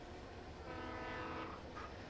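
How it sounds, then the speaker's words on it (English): A train passes close to a house, a continuous loud rumble with clattering wheels and a sustained horn tone rising near the end, heard from indoors with no talking. "How close is the train to your house?"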